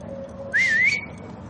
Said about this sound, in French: Fais siffler.